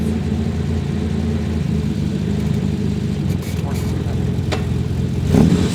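A Ford Taunus 2.9 engine with a clutch needing adjustment runs steadily close by with a constant low drone, rising slightly in a brief rev near the end.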